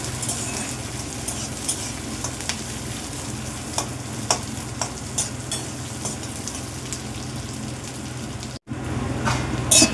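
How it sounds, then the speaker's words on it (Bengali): Onions fry in oil with whole chillies and a five-spice tempering, a dense, continuous close sizzle with scattered pops and a brief dropout near the end; no speech over it. "আর পেঁয়াজটাকে একটু ভাজতে হবে"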